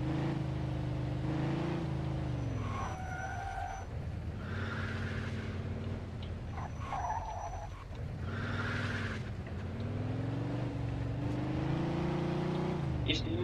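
A car engine in Mafia II revs up and down through repeated gear shifts, steady and close, with a voice talking over it at times.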